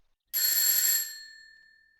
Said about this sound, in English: Once you've decided on a doorbell to ring, you then ring it, of course.